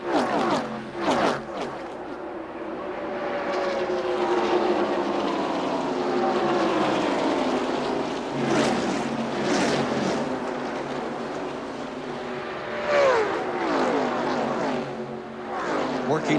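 NASCAR Winston Cup stock cars in a ten-car lead draft at the 1995 Daytona 500, engines roaring and droning as they pass, the pitch swooping through repeated fly-bys, with a commentator speaking over the noise.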